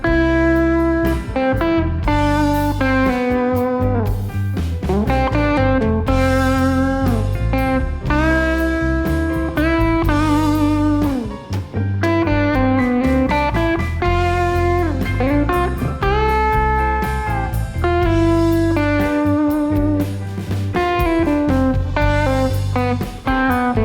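An improvised guitar solo built on guide tones plays alone for over twenty seconds: loud melodic lines of shifting sustained notes and quick runs, with no talking.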